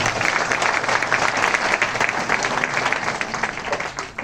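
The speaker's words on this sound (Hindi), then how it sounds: "वाह, जोरदार तालियां" Loud, continuous audience applause at a seminar for direct sellers, a thick crowd of clapping hands holding steady throughout and tapering slightly at the end.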